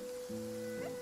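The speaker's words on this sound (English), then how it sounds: "It's raining." Rain falls steadily in a Genshin Impact cutscene, a soft, even wash of drops that runs unbroken under a low hum and a brief faint tone, with no voices.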